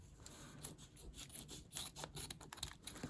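Scissors snip and rub through Japanese Pokémon card packaging in quick, close, quiet strokes, with scratchy rasping contact and no talking.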